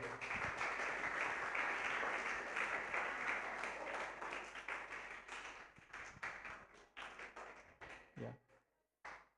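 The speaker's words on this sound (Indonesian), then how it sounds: "Mari kita beri tepuk tangan untuk para kandidat." Applause for student council candidates at a student council debate at SMKN 1 Cermee, a vocational school: dense, loud clapping from a roomful of people that thins out toward the end into scattered, separate claps.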